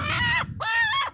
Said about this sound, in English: this is not just a chicken. It is a chicken.